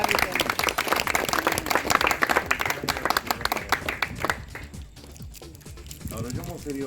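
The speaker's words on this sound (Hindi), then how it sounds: "तालियों की गड़गड़ाहट रुकनी नहीं चाहिए।" An audience at a local community felicitation gathering claps loudly for several seconds in a sharp, crowded patter. The clapping thins and fades as a voice begins speaking over the room.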